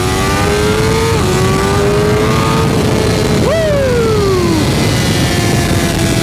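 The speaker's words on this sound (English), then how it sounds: "For a stock exhaust, it doesn't sound that bad." A BMW M1000R motorcycle with its stock exhaust revs loudly up close, engine pitch climbing steadily, then surging sharply higher before falling away through a downshift, with no one talking.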